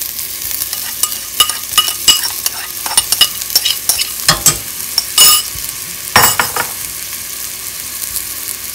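Onions fry in oil for biryani, a loud, close sizzle punctuated by repeated clinks and scrapes as they are stirred, with a few stronger bursts of crackling near the end.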